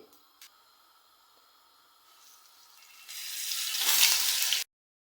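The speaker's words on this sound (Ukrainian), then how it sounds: "Рибу я обжарую на великому вогні з двох сторін" Oil sizzles and crackles in a pan as flour-coated hake fries over high heat, quiet at first and then swelling into a loud, steady frying hiss before cutting off abruptly.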